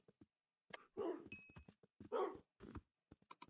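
Several short dog barks and yips from a Minecraft game pop out in separate bursts against near silence, fairly faint and evenly spaced, with no talking.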